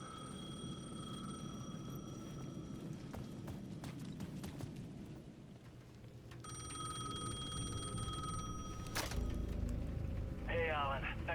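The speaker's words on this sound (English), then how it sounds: "The payphone at the edge of the plaza was ringing again." In the video game Alan Wake 2, a payphone rings in two bursts of bell-like tones, the second longer, over a low rumbling ambience with faint footsteps and scattered clicks.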